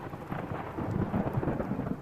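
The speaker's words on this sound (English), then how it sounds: "there's more thunder." Thunder rumbling through a thunderstorm with steady rain falling, a low continuous roll that swells and recedes over a couple of seconds, with no voices present.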